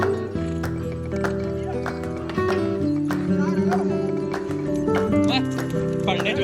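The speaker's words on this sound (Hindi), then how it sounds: "ओए भाग रहा है घोड़ा।" A horse runs in Kashmir, its hooves clip-clopping with a neigh over steady music and loud excited talk from people nearby.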